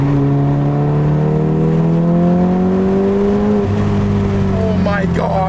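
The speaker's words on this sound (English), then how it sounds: "Listen to this downshift." A VW Golf R fitted with an AWE SwitchPath exhaust drops a gear, its loud, close exhaust note rising in pitch, then blipping and settling into a burbling rumble with crackles at the end.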